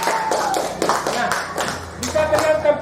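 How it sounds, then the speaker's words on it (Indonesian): Classroom applause for a student group, a few seconds of scattered, fairly close hand clapping with a teacher's voice speaking over it. "tepuk tangan dulu kelompok 2"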